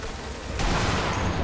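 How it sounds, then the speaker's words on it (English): Rapid gunfire from a mounted machine gun in the war shooter Sniper Elite V2: a dense, continuous barrage that swells louder partway through and keeps rattling to the end. "Guy's got like a mounted machine gun over there."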